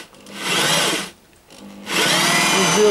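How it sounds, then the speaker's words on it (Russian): A power drill whines as it bores into wood for a parrot nest box in two bursts, close and loud, with a short pause between them. "Ладно, сверли пока. 6 штук высверлим."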